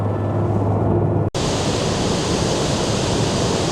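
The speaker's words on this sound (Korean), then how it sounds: "거대한 물줄기가 수직으로 낙하하는데 엄청난 물보라를 일으키면서" Niagara Falls pours down up close, a dense, constant roar of plunging water that cuts off for an instant near the start and then continues unbroken, loud, with no voices.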